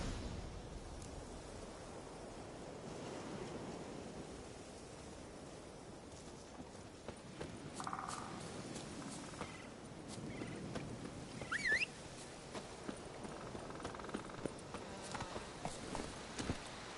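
Horse hooves clip-clop at a walking pace in a PS4 video game, faint and rhythmic beneath soft ambient game sounds, with scattered small clicks and no speech.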